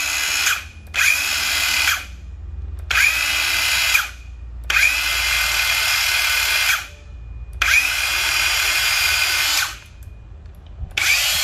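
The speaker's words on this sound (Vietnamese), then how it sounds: "thân máy cưa này, máy cắt gỗ, thân máy cắt gỗ, lưỡi cắt gỗ luôn" A Japanese battery-powered electric wood-cutting saw runs in repeated bursts of a second or two, a loud, close, high whine with short pauses between each run.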